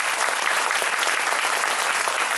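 Sustained applause from an audience, dense steady clapping throughout with no voices standing out.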